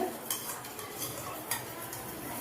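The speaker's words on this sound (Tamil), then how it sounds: "அதை நல்லா வந்து லம்ஸ் இல்லாமல் மிக்ஸ் பண்ணிக்கோங்க" A spoon stirs yogurt and scrapes around a bowl, soft clinks recurring at intervals, close but quiet, with no voices.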